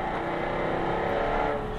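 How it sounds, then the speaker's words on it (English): A Jaguar F-Type R with a V8 exhaust gives a steady, loud, close engine roar that holds for a couple of seconds with no distinct pops standing out. "Downshifts unleash a fury of just crackling noises."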